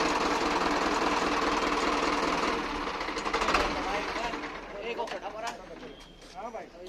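Powertrac Euro 55 tractor engine at a tractor market, a loud continuous diesel clatter that then drops into uneven revving bursts, with voices talking over it.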